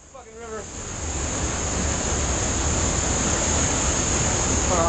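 Loud, steady roar of rushing floodwater in a river, a broad wash of churning noise that builds in the first second and then holds constant, with brief faint vocal sounds at the start and end.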